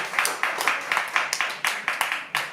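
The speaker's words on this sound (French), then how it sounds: "on peut applaudir encore" An audience at a slam poetry show claps steadily, with many hands striking in a regular beat of sharp repeated bursts that fill the room continuously.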